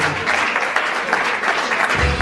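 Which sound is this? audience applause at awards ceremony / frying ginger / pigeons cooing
audience applause at awards ceremony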